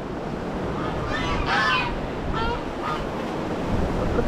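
Geese honk repeatedly on a beach in Hua Hin, Thailand, their calls rising in short bursts over steady wind and surf noise.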